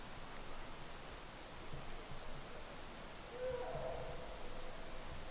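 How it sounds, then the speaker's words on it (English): A hoot owl calls at night in dark woods, one faint, distant low hoot rising briefly out of a steady hiss of background noise, no voices. "That's a hoot owl."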